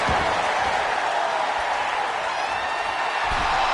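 Crowd roar from a WWE 2K26 wrestling arena, a dense, steady wash of cheering that stays loud and unbroken from start to finish.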